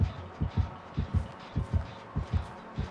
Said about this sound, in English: Strong heartbeat with me.